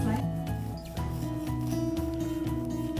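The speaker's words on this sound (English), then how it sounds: "And you're gonna want a serrated knife, and we're gonna slice it" A serrated knife saws through a loaf of paleo chocolate banana bread in a home kitchen, giving a steady back-and-forth rasping that repeats in rhythmic strokes under background music.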